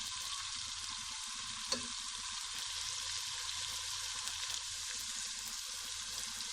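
Tomatoes cook in a hot pan for Shahjahani kadhi, producing a steady, even sizzle with a single utensil clink near the start and no talking.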